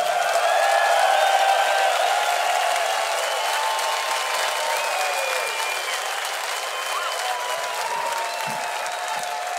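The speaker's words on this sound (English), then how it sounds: "Give yourself a round of applause." A metal concert audience in Serbia applauds and cheers loudly and continuously, with scattered whistles and shouts rising over the sustained clapping.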